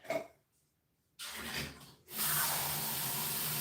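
Water runs from a kitchen tap into a glass as a steady broadband hiss, beginning after a short quiet gap, briefly pausing, then pouring continuously and fairly close.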